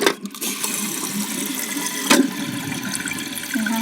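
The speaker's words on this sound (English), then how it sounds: "Now here's a full flush." A new toilet tank doing a full flush: a steady rush of draining and refilling water runs throughout, with a brief louder surge partway through.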